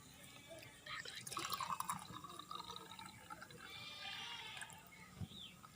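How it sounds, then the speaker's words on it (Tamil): Water pours and splashes into a pot, a gurgling, filling stream with a few drips near the end, close by. "ஸோ நம்ம தண்ணி ஊற்றிக்கலாம்."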